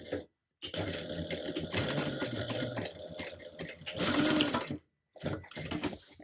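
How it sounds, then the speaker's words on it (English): A sewing machine stitches fabric at a narrow 1/8 inch seam in bursts of rapid mechanical whirring, with brief pauses between runs, close and clear with no talking. "we're going to sew it down at 1/8 of an inch seam allowance"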